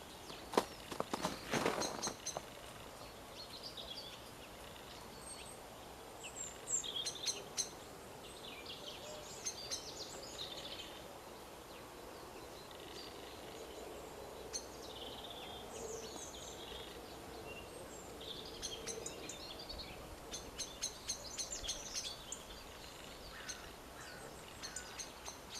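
Wild birds call in a garden around feeders stocked with bread, oats and birdseed, with faint scattered chirps and brief tweets over quiet outdoor ambience and a louder rustle at the start.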